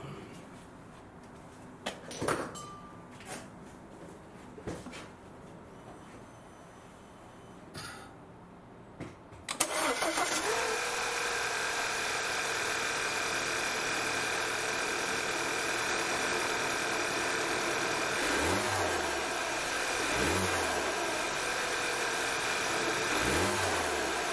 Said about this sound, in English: So I'm just going to start the car now, make sure it's running okay without any misfires